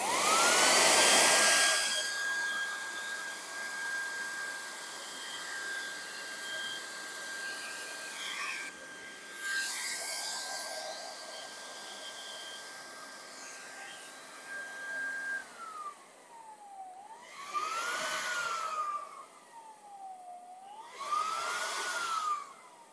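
The electric blower motor on a blacksmith forge built from scrap runs with a steady whirring whine that holds one pitch and later wavers up and down. Louder rushing bursts of air come and go over it.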